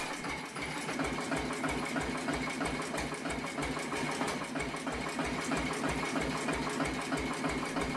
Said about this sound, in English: each exhaust beat carrying the deep, deliberate sound only a big hit-and-miss engine can make